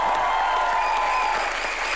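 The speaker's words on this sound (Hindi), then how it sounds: "एक बार जोरदार तालियां हो जाए।" Studio audience applause on a comedy talk show, a loud, sustained wash of clapping and crowd noise that stays even throughout, with no speech on top.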